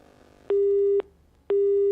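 Phone line busy tone after a call is cut off: two loud, steady electronic beeps of half a second each, separated by a half-second gap, with nothing else heard.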